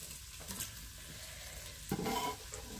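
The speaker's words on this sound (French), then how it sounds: "Et on va venir faire roussir cet ail, alors très légèrement, hein." Sliced garlic sizzles in melted butter in a saucepan while a utensil stirs it, with soft scraping and a brief louder burst of frying near the end. The sound is quiet and close, with no talk.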